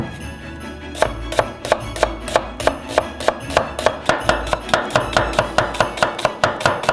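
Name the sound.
knife chopping red onions into quarters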